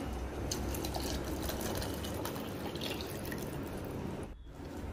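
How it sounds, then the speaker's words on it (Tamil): Steady rushing splash of tamarind water being poured continuously into a clay pot, broad and fairly loud, easing off briefly near the end. "இப்போது கரைச்சி வச்சுருக்க புளி தண்ணி ஊற்றிக்கிறேன்"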